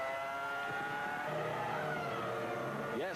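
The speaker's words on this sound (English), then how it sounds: "Just listen to this engine scream." A Formula One car engine screams at high revs during qualifying at the 2000 San Marino Grand Prix, a sustained, loud, whining tone with shifting pitch throughout and a brief rising sweep at the end.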